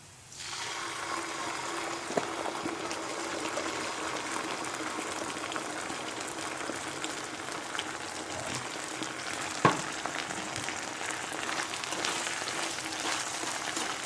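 Sardines sautéing in a pan with onion, garlic and lemongrass, a steady dense sizzle and bubbling hiss running continuously, with a brief clink partway through.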